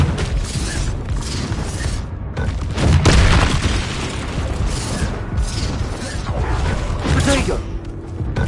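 In a Hogwarts video game, a Bombarda blasting spell goes off amid other combat spells, with booming impacts and crackling debris rumbling over continuous noisy battle sounds, loudest around the middle, and no speech.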